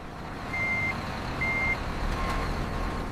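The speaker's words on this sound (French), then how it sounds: "Le camion de plantation numéro 7" Plantation truck at a coconut processing factory in China reversing, with two clear intermittent reversing beeps over a steady low engine rumble and background factory noise.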